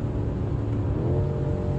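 A tuned BMW M5 Manhart MH5 700 accelerates hard, its engine note rising steadily in a loud, continuous rumbling drone heard from inside the car over a short burst.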